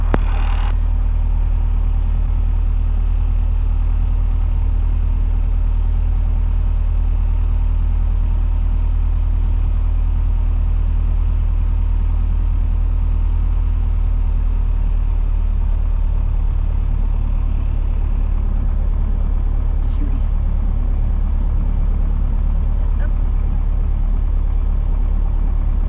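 A Piper Cherokee single-engine propeller plane rumbles steadily and loud from close by on takeoff, a constant droning hum that builds slightly toward the end.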